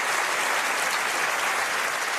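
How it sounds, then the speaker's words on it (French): A theatre audience applauds steadily, a dense, even wash of clapping hands that holds at a constant level throughout, with no voices standing out. "on peut les applaudir, bravo"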